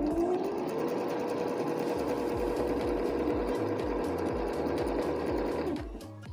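A Jaguar KC-210 sewing machine stitches a picot edge, its needle thumping in a fast, even rhythm before slowing and stopping near the end.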